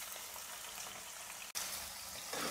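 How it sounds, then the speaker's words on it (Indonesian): Beef liver frying in hot oil for sambal goreng hati, a dense, even sizzle that holds steady throughout, interrupted by one brief dropout before it swells slightly louder at the end. "Panaskan minyak, goreng hatinya."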